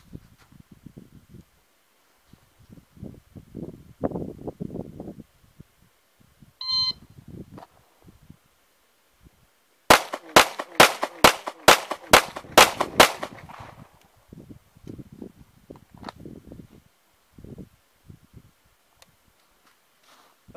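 Eight pistol shots fired at targets in an evenly spaced half-second cadence, loud and close, preceded by a short electronic timer beep and surrounded by quiet talking before and after.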